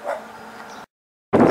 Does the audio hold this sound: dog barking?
yes